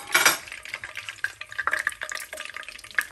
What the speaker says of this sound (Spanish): Aquí los voy a poner todos los chiles, no les pasa nada. Se pueden dorar juntos.